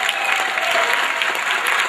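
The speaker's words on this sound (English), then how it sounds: "give them just a little louder applause." Sustained audience applause fills a town hall meeting, dense and steady from start to finish with a faint crowd murmur beneath.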